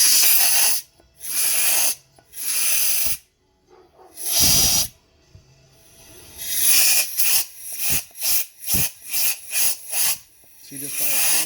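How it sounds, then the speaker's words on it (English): Compressed air hisses from an air compressor nozzle into a 1999 Honda Shadow motorcycle carburetor during a rebuild, first in long sustained blasts, then in a series of short rhythmic spurts, loud and close. "I'll show you with the air compressor."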